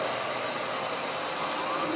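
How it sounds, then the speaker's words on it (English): A Royal Lexon S20 canister vacuum runs steadily on carpet, making a continuous, even, loud airy roar. It stays constant from start to end with no pauses. "Alright, so we're going to vacuum the carpeting."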